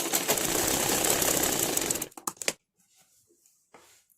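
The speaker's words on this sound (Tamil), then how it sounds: "நம்ம இப்போ இது வரைக்கும் நீட்டாக வச்சு கால் இன்ச்சில் ஸ்டிச் பண்ணி எடுத்துடலாம்" Sewing machine stitching the back part of a blouse with lining, a fast steady mechanical whir that runs about two seconds, then a few sharp clicks and faint handling noises follow in near silence.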